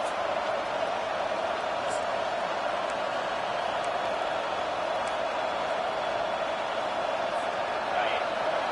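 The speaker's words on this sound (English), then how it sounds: "Decibels rising as the crowd gets behind this defense on third down" Football stadium crowd in Wyoming during a third-down defensive stand, a dense, constant roar sustained at steady loudness throughout, with a faint voice underneath.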